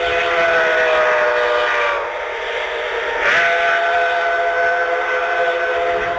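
Yreka Western steam locomotive number 19 hauls a fan trip excursion train on a sprint to Montague in the Shasta Valley, a loud continuous chuffing roar with a steady whistle-like drone and a brief dip near the middle.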